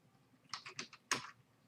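Typing on a computer keyboard, four quick close key clicks followed by a single louder strike, short and crisp against a quiet background.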